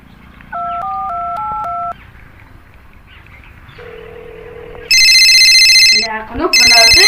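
A phone being dialed: a quick run of about half a dozen keypad tone beeps, followed by a held tone and then loud repeating electronic ringing.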